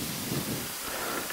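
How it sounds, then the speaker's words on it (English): Hail falls steadily outdoors with a dense, constant hiss and patter, fairly loud and even throughout with no talk. "and as you can see, it's still hailing"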